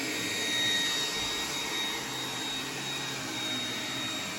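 An iRobot Roomba 980 robot vacuum runs with a steady, loud broadband whir and high-pitched whine, heard close and alone with no talking.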